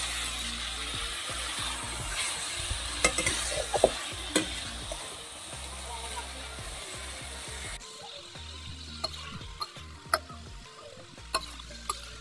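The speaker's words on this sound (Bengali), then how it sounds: "এই যে দেখুন বন্ধুরা এই যে ফুলকপিগুলো দিয়ে" Boiled cauliflower florets sizzle steadily in a hot frying pan, with a constant oily hiss and scattered sharp clicks and taps from stirring.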